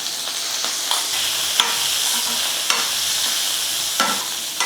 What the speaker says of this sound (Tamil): இப்போ இதை சேர்த்து நல்லா வதக்கிக்கலாம்.